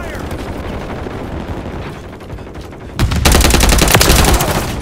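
Gunfire in the Modern Warfare 3 video game: a steady rattle of shots under a shouted voice, then a louder, dense burst of automatic fire near the end.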